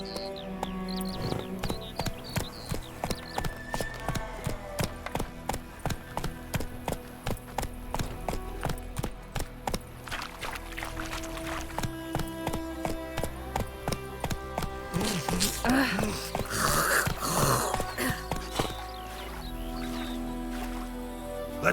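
Horse hooves pound in a steady, rhythmic gallop in The Witcher 3, loud and close throughout, over continuous background game sound and music with splashing near the end.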